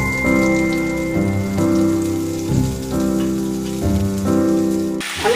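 Chopped onions fry in hot oil with crushed garlic, giving a steady, rain-like sizzle that stays close and even, with music playing over it.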